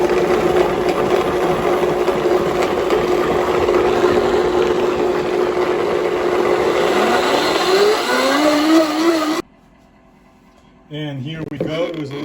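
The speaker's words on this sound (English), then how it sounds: "Now that it's all cooked, we're going to blend it up." A blender whirs steadily through cooked vegan soup with veggie broth for about nine seconds, its motor pitch climbing near the end before cutting off abruptly. A voice follows briefly.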